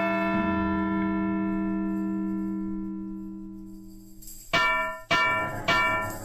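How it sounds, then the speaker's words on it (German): In the Edna Bricht Aus adventure game a bell rings out with one long resonant stroke that slowly decays, followed by three sharper, brighter strikes in quick succession near the end. "Aber vorher sollten wir nochmal die Glocke läuten."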